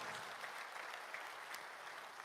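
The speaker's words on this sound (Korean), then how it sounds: "여러분 큰 박수 부탁드립니다" An audience applauding at a book concert, a continuous even wash of many hands clapping in a hall, steady and moderately distant, without speech.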